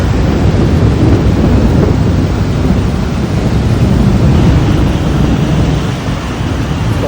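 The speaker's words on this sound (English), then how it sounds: "Like the roads are flooding. There's lightning everywhere." A heavy tropical rainstorm pours down steadily over flooding roads in Penang. The dense, loud roar continues without a break, and no distinct thunderclap stands out.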